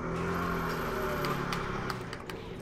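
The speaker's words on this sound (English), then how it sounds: "His bike started up." A motorbike engine running steadily after starting up, a continuous low mechanical drone with a faint higher whine heard indoors at some distance, with a few light knocks over it.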